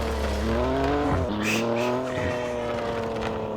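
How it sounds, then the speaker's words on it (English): A BMW M4 slides on a slippery surface at a car meet, its tires squealing in a long wavering screech over loud engine drone, with a short rough scrape in the middle and no crash impact. "Why did I crash my car like that?"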